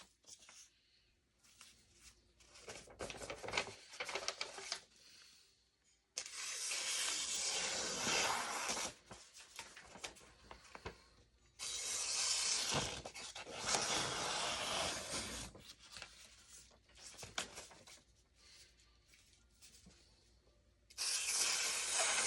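A hand-forged Viking sword slices through sheets of paper indoors, giving several sharp, breathy swishing rips in quick bursts separated by short pauses, with no voices.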